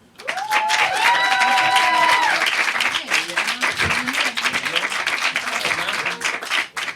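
A studio audience claps and cheers loudly for a band as they come on stage, with whoops and a voice calling out over the dense applause.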